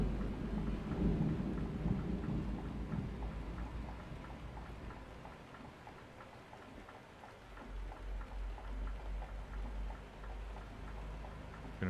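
Deep rumbling thunder rolls through a steady downpour during a thunderstorm, rain pattering on a vehicle's surfaces close by while low booms swell and fade across the scene.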